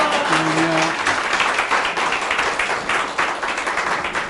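A church congregation bursts into loud, sustained applause as the senior pastor comes forward, a dense wash of clapping hands that holds steady for several seconds with a few voices briefly rising at the start.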